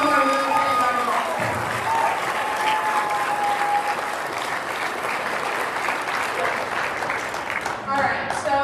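Audience at an opening ceremony applauding steadily, a dense wash of many hands clapping that carries throughout, with cheers and a voice faintly audible above it.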